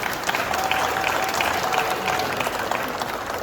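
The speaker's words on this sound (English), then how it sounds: "Let's give them a round of applause" Sustained applause from a graduation ceremony audience, a dense, steady wash of many hands clapping at fairly close range throughout, with faint crowd murmur underneath.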